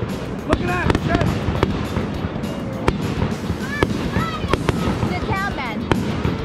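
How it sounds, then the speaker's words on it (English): Fireworks show bursting outdoors at a birthday gathering at a villa, with repeated sharp booms and crackles over steady crowd noise, some whistling streaks, and people talking nearby. "the fireworks show's blowing up right behind you."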